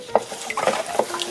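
Salt being stirred into water in a container to dissolve it while pickling red pepper leaves for kimchi: soft, close, irregular scraping and light clinks over a steady low background.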